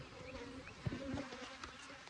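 Aggressive robbing bees hum around a hive in a steady, close buzz that lasts throughout, with brief louder swells as individual insects fly past, and no talking.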